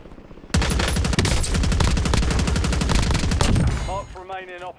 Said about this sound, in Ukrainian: Ось і бачите, як класно стріляється каром.